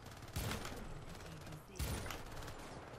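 Two loud bursts of gunfire go off in the Syndicate co-op video game, each a sharp crack followed by a rattling tail, about a second and a half apart, over a busy game background.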